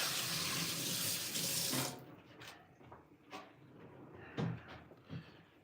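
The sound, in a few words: washing hands under a kitchen faucet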